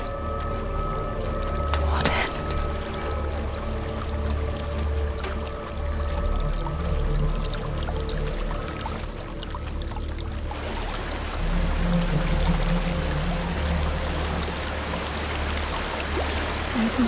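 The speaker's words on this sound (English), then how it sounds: "There's a waterfall." Steady rushing water from a waterfall in the video game Senua's Sacrifice, a continuous broadband roar that shifts in texture partway through, with faint tonal game ambience underneath and no talk.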